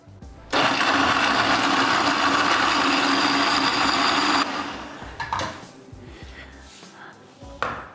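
Blender whirring loudly and steadily for about four seconds as it purees pineapple juice, fresh orange juice and spoonfuls of yogurt into a smoothie, then cutting off to quieter kitchen clatter.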